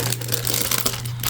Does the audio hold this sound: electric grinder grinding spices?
no